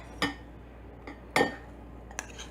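A metal spoon clinks against a bowl of keto chocolate cake batter, making about four light, separate taps close by in a quiet kitchen.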